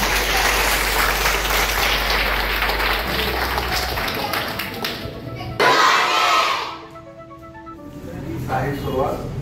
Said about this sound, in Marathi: सगळ्यांनी टाळ्या वाजवून स्वागत करायचं आहे